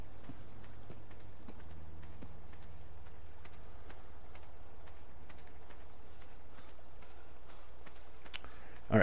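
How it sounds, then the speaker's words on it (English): Steady clip-clopping hoofbeats of a horse in a survival video game, regular and close over a low drone, with a brief louder noise at the end. "And it's, of course, a level 5 horse."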